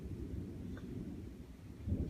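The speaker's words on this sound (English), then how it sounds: "And then there's some thunder." Thunder rolls during a lightning storm as a low, distant rumble that swells briefly near the end, heard alone without talk.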